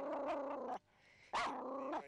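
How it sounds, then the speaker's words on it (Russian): A Pomeranian dog barks in two short bursts separated by a brief pause, close and fairly loud, with a growly, yappy tone and no talking. "Он или смотрит в ту сторону, или заливается лаем."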